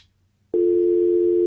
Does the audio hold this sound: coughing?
no